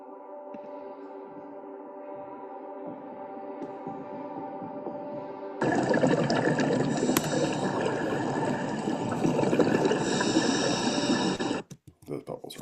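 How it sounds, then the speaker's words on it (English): Scuba diving bubbles swell into a loud, dense, continuous underwater rush about halfway through, replacing a quieter stretch with talk, then cut off abruptly near the end. "Those bubbles are way too loud"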